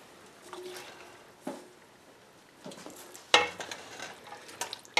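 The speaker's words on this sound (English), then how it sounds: "I'm going to put the ground beef back in." Ground beef is added back into a pot of traditional chili and stirred, giving soft sizzling under scattered scrapes, thumps and clinks of utensils, one sharp knock standing out; quiet overall, no talking.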